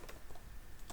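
Clicky keystrokes on a computer keyboard while entering code in a Laravel routes file, a few quick taps close by, fairly faint and with no talking.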